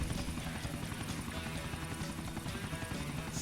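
Helicopter in the video game Grand Theft Auto: The Ballad of Gay Tony, a dense continuous rotor roar with broadband noise filling the scene at steady loudness, no voices.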